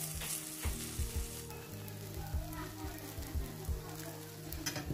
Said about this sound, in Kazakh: Содан кейін шамамен 5 ас қасықтай кабачокты саламыз,